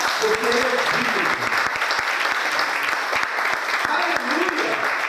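A church congregation claps loudly and continuously during a Portuguese-language sermon on prayer and miracles, with dense close applause running the whole time and a voice calling out over it.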